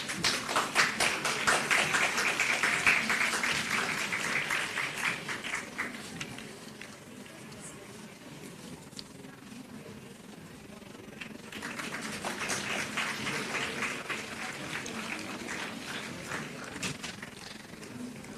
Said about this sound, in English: Can I please have a big round of applause?